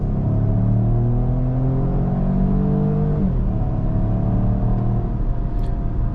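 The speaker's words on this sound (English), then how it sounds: "I'm gonna slow down a little bit and then punch it here from 50 all the way" A 2023 Peugeot 408 1.2 PureTech 130 HP engine revs loud and steady under hard acceleration from 50, its pitch climbing through the gears with one brief dip at a shift, sustained and close.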